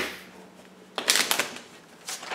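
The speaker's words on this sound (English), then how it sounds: "I'm going to shuffle these" Board game cards being shuffled at a table, with a couple of quick riffling bursts of crisp papery flutter after a quiet lull, close and fairly soft.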